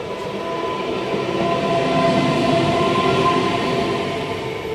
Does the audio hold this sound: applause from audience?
no